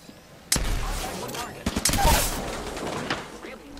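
The Flatline rifle fires in the video game Apex Legends, with a few sharp gunshots and a short rapid burst of fire heard close and fairly loud, while players talk over it.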